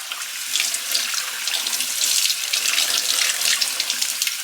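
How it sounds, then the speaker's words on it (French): Tap water runs steadily into a kitchen sink as white beans are rinsed, a continuous close hiss and splash of flowing water with no voices. "je vais venir en fait tout simplement rincer mes haricots blancs"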